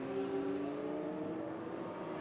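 A steady engine roar drones on continuously from 1981–1991 IMSA GTP and Group C race cars powering around the hills of the Monterey track at a distance, with no voices.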